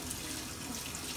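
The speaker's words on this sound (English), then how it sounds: "Let me wash my hands again" Tap water running steadily while hands are washed under it in a kitchen, a soft continuous splashing that is faint and close.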